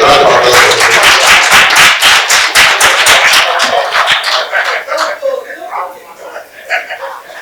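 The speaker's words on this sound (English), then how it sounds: "A round of applause." Crowd clapping at the Nigeria Pitch Awards ceremony for Nigerian sports journalism, greeting the President of the Guild of Sports Editors: dense, loud clapping for about four seconds, then thinning out into scattered claps and room noise.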